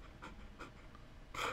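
A dog pants in quick, soft breathy puffs close by, finishing with a louder burst of breath, and no one speaks.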